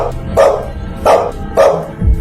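A dog barks four times in a steady, evenly spaced series, loud and close, with no voices over it, in a Tamil short film.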